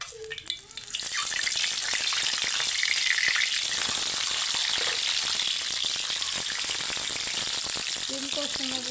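Eggs and potatoes frying in a pan give a dense, steady sizzle that starts abruptly after a quiet opening and stays loud and close throughout, with faint stirring clicks.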